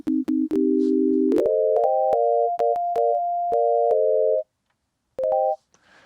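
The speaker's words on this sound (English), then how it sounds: "Just change it to be a sine wave." Pure sine-wave synthesizer notes from a Deluge sequencer, clean sustained tones stepping up in pitch in a short melodic sequence, with clicks between notes and a pause before a final note, no talk.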